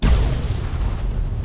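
A loud, close explosion in Fallout 3, a sudden heavy boom that rolls into a sustained low rumble for the rest of the moment.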